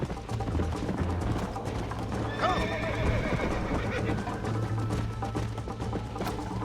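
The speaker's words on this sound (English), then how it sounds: "Se le ha pirado el caballo, tío." A horse in the Red Dead Redemption video game gives a loud whinny partway through over steady hoofbeats. Game music and ambience continue beneath it, and there is no talk.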